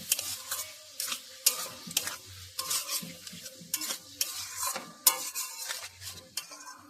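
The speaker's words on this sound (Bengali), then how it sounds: "মশলার সঙ্গে মাংসটাকে আমি ভালো করে কষিয়ে নেব" Chicken is stirred and fried with spices and half a spoon of garam masala in a pan, with rhythmic scraping stirs of a spoon against the metal over a steady sizzle, close and loud with no talking.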